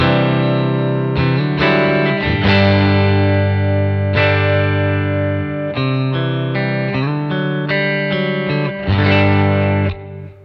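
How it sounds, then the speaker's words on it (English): Electric guitar through a Line 6 Helix patch tone-matched to a 1965 Fender Deluxe Reverb Prince amp, with a subtle eighth-note delay trailing behind sustained chords and single notes, played alone, full and steady. "So this eighth delay, real kind of a subtle thing that just kind of hangs out underneath what you play."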